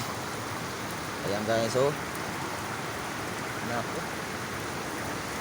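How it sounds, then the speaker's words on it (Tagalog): Heavy rain falling at a market, a constant broadband hiss of downpour that stays steady from start to finish, with someone speaking briefly over it. "walang kakupas-kupas yung ulan."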